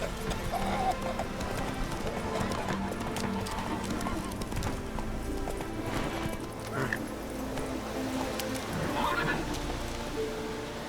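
Roach the horse in The Witcher 3, neighing and whinnying while hooves clip-clop steadily beneath, amid outdoor game ambience and other sounds throughout.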